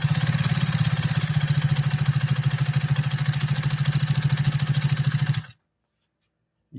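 A Pfaff 130-6 sewing machine stitches a zigzag column with a fast, even, rhythmic mechanical chatter, close and steady for about five seconds before stopping abruptly.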